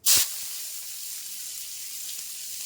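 Onion goes into hot oil with cinnamon and chana dal for a vegetable rice, a sharp burst of hissing on contact that settles into a steady, even sizzle.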